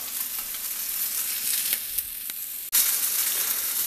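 Rice simmers in broth in a cast iron pan over medium to medium-low heat, making a steady bubbling hiss throughout. A sharp brief break occurs near the end before the hiss resumes. No one speaks.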